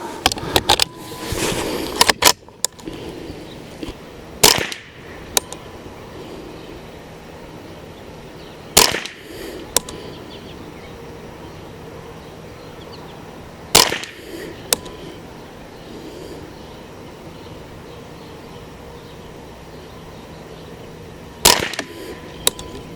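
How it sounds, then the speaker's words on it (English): .22LR rifle fired with CCI standard velocity ammunition at a range, several sharp, loud, isolated shots spaced seconds apart, with faint clicks of the action between them and quiet background hum. "Let's do a couple more groups here with this and see what it does."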